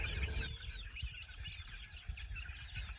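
Pet chickens cluck steadily and chatter close by as they peck at bought feed, a busy, continuous layer of soft clucks and calls with low scratching and pecking underneath.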